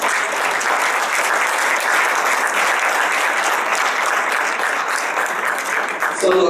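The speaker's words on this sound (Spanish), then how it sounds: "Él es el profesor José Antonio Torres Solís, para quien pido un fuerte aplauso." A panel audience at a round-table event on physical education gives a strong, sustained burst of applause for a professor, dense, loud and steady clapping throughout with no talk over it.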